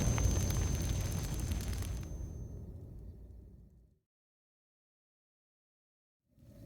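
A fire roars in the space exploration game Outer Wilds, a loud, dense rumbling burn that swells, tapers over several seconds and cuts to silence, with a faint sound returning near the end.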